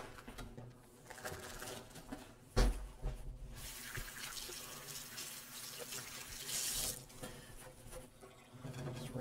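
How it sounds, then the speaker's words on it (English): Kitchen tap running at a sink as hands are rinsed after trimming a beef brisket; a steady broadband water rush lasts throughout at close range, with a brief clunk near the start and no talking. "Just rinse off my hands."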